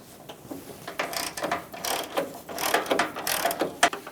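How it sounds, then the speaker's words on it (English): A 10mm socket ratchet loosens a headlight trim bezel bolt on a Ford E-350 Super Duty, giving a run of quick clicking ratchet strokes in short bursts, close and fairly quiet. "10mm socket, we're going to go for this bolt underneath the headlight trim bezel."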